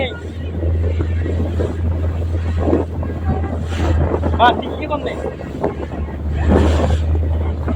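Boat ride out on the open sea off Vizag, with steady engine drone and wind buffeting the microphone throughout, and voices talking over it.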